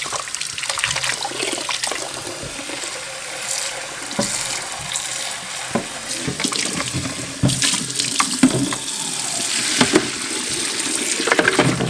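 Black walnuts rinsed under running tap water in a sink, a steady splashing rush of water with knocks and rattles of nuts being stirred, close and continuous.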